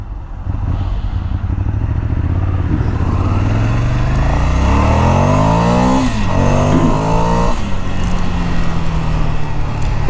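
A 2017 Ducati Scrambler's V-twin engine revs up loudly and close by, its throaty pitch climbing through acceleration with a rough, pulsing edge. No one speaks over it.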